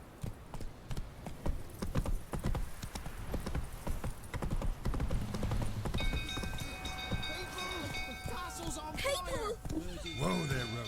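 Hooves of the horse Roach clip-clop steadily in Witcher 3, a brisk close rhythm over game music and ambience, with voices talking over the later part.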